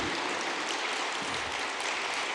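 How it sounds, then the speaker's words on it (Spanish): Dense, steady applause fills a church service, a continuous wash of many hands clapping at once with no talk over it. "Dale el aplauso al Señor"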